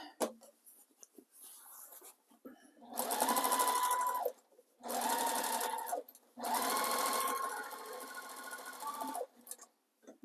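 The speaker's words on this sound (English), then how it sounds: "Put it back there and stitch right over it." A sewing machine stitches raw-edge appliqué on a baby quilt in three steady whirring runs of a few seconds each, separated by brief pauses, with quieter handling sounds between them.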